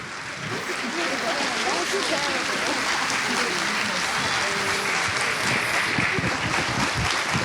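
An audience at a summer camp finale claps for a children's performance. The applause is sustained and even throughout, with a murmur of crowd voices and talk mixed underneath.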